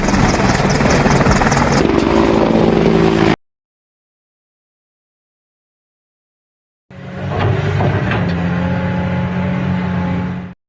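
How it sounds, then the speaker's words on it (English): An army helicopter's rotor and engine roar loudly in two separate bursts, split by a few seconds of total silence. "Army helicopter."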